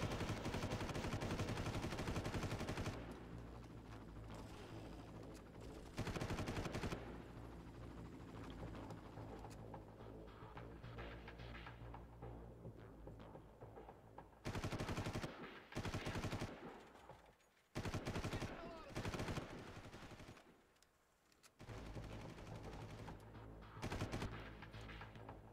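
Heavy bursts of automatic gunfire in the Far Cry video game, sustained rattling volleys broken by short gaps and sudden restarts, with no talk over them.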